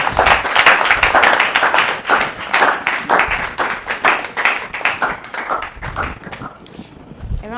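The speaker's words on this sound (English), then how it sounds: "A round of applause for Jamila." An audience at a Miss Muslimah Ghana 2021 pageant claps and applauds, dense and loud at first, then thinning out and fading.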